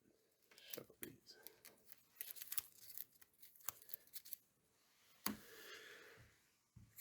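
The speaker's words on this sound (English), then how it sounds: "Shuffle these." A deck of cards from the Wyrmspan: Dragon Academy board game is shuffled by hand, giving quick papery riffles and snaps in short bursts, quiet and close, with a few breaths between.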